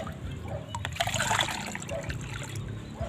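Water is poured into a container of dissolved compost sulfate fertilizer for eggplant feeding, a soft close trickle and splash that swells midway and then eases.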